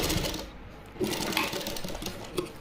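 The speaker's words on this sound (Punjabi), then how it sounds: "ਇਸ ਨੂੰ ਇਦਾਂ ਤਿਰਛਾ ਸਲਾਈ ਨੂੰ ਇੱਧਰ ਲਗਾ ਦਾਂਗੇ" A sewing machine runs over pleats folded into cloth, a continuous close whirring hum with a few small clicks and knocks, moderately loud, with no talk.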